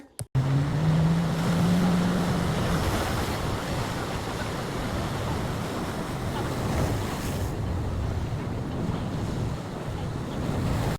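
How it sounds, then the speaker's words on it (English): Ocean waves wash in at a San Diego beach at sunset, a continuous roar of surf, with wind buffeting the microphone, loud and close throughout. "The waves sound so nice."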